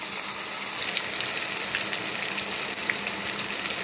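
Tomatoes fry in hot oil in a kadhai, giving a continuous close, even sizzling hiss that holds steady throughout.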